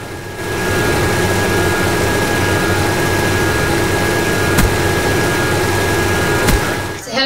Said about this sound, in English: Is the helicopter after me?